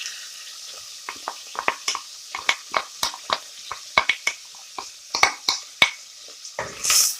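Washed lentils tipped into a pot and stirred, a run of sharp irregular clicks and scrapes against the metal, with a brief rushing swish at the end; no voices.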